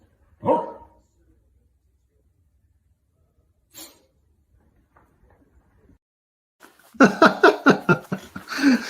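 A corgi and another dog bark in a clip played back from a video. A couple of faint isolated sounds come first, then a rapid run of loud, close barks at the end.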